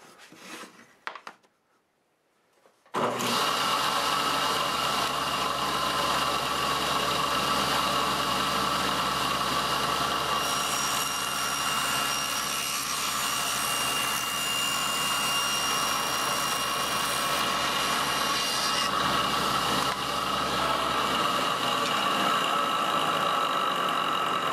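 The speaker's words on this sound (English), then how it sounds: "Let's go ahead and cut these. I got one bandsaw side" A bandsaw cuts wood segments for wood turning, its loud steady motor and blade whine running continuously for over twenty seconds after a brief quiet start.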